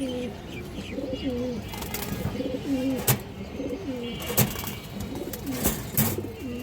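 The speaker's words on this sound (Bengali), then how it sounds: "খুব সুন্দর একটা মাদি কবুতর মাসাল্লাহ বেজি মাদি" A Bezi breed female pigeon coos in repeated soft, rolling phrases close by, with a few sharp clicks and knocks in the background.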